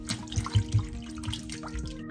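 Water running over a lemon being scrubbed with salt by hand at a sink, a soft trickling wash with a few light splashes and drips close by, no voices.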